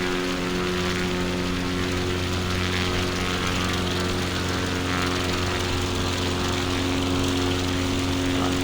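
Steady, loud drone of a CubCrafters light propeller aircraft engine in flight, a continuous near hum with strong tonal harmonics and no voices.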